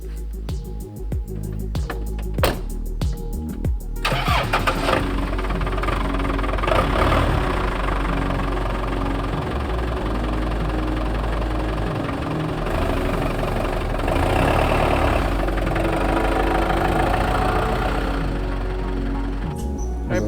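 A 1978 Corvette that has sat all summer cranks over in a few rough bursts, then catches and settles into a loud, steady, lumpy idle heard up close.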